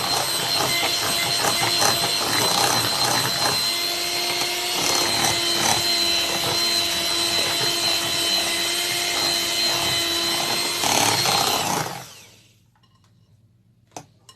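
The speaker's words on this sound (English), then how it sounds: "So I'm going to whisk it again. I'm going to mix them together again." Plantain puff puff batter being whisked: a loud, steady whirring rattle runs for about twelve seconds, then cuts off abruptly into near silence with one small knock at the end.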